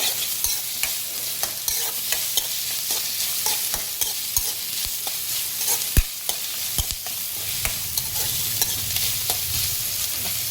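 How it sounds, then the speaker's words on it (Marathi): Finely chopped onion sizzles steadily in a hot pan while being sautéed until reddish, with frequent clinks of a spoon stirring against the pan throughout. "आता हे चांगलं असं परतून घ्यायचं लालसर होईपर्यंत"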